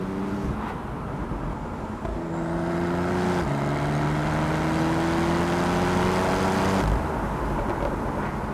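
A Porsche 911 Carrera GTS engine drones while driving, its steady tone rising through the revs, dropping briefly at a gear change and climbing again before easing off, loud and close with no talking.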